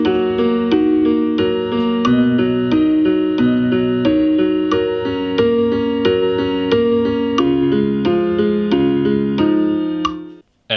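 Synth notes programmed in GarageBand play a steady, repeating melodic pattern with bright plucked attacks over sustained lower tones, continuous and clear with no voice, cutting off abruptly near the end.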